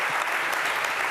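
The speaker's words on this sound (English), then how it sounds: "her a big round of applause." A conference audience gives a steady round of applause for a champion being honoured, a dense, even wash of clapping that holds at one level throughout.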